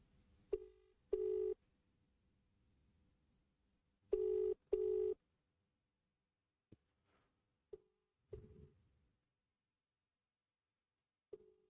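An unanswered telephone ringback tone sounds in two pairs of short electronic rings at a steady interval over a quiet line, followed by a few faint clicks and scattered blips.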